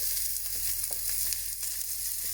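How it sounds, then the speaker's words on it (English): Seasoned pork tenderloin sears in a hot pan with butter, fresh rosemary and thyme, giving a continuous close crackling sizzle with small pops and no talking. "So that's the tenderloin, nicely seasoned, nicely coloured, into my pan. Some fresh rosemary, some fresh thyme and some butter."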